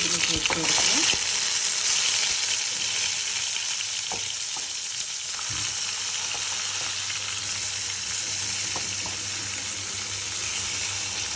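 Food sizzling and frying steadily in hot coconut oil in a pan, a dense continuous crackle close up, with occasional stirring clinks and faint talk.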